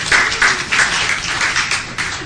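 Audience applause at a standup comedy show at the Westside Comedy Theater, a dense steady wash of many hands clapping for about two seconds, fairly loud and close, with no talking over it.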